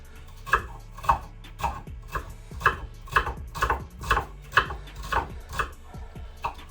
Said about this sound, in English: Celery, I always cut the end off